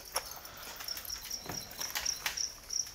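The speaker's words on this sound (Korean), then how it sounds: "저희가 키우는 귀뚜라미는 쌍별 귀뚜라미라고 해서 외래종이에요" Two-spotted crickets kept on an edible insect farm chirp in a steady, repeating high trill, faint and continuous, with light scratchy rustling from the insects underneath.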